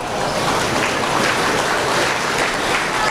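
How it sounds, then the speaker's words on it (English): A crowd applauds crossbred gilt exhibitors at a swine show with steady, continuous clapping that sounds broad and washy, like a large open arena. "Let's give our crossbreeding gilt exhibitors a nice round of applause."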